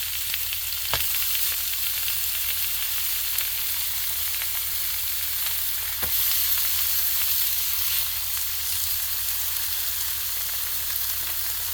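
A small ribeye steak sizzles on an electric griddle in a steady, close, continuous hiss. A couple of faint pops and scrapes break the sizzle, and no one speaks.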